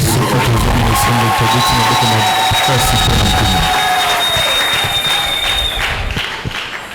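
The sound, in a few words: congregation applauding and cheering in church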